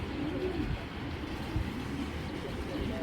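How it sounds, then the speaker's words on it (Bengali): Young pigeons coo steadily in a low, throaty murmur from several birds at once, continuous and fairly close for the whole stretch, with no talk over it. "ইয়াং কবুতর এগুলা"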